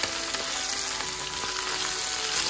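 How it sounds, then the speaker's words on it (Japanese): Chicken thighs and potatoes fry together in a pan, giving a steady, even sizzle with faint crackles that holds at one level throughout, with no talking. "はい、ではこのまま5分ほど焼いていきます。"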